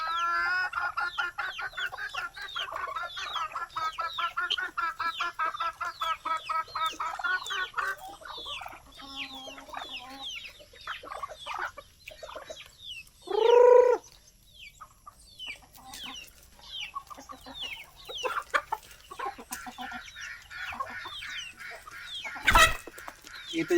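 Farm chickens feeding give a busy chorus of close clucks and chatter, with one louder squawk midway and a sharp knock near the end.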